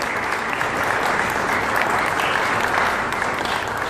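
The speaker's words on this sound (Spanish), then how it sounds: "para quien pido un gran aplauso" Steady, dense applause from an audience at an evening press conference presenting a social campaign on family and values, continuous clapping filling the whole stretch without pause.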